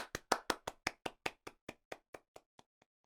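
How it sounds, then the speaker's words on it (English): Applause at a tech conference for a finished talk: a brief burst of claps that starts strong and quickly thins to a few scattered, fading claps, with no talking. "round of applause."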